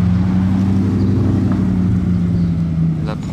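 A Bugatti Chiron Pur Sport on the street in Monaco, its engine holding a deep, loud, steady drone close by with a faint rise near the end.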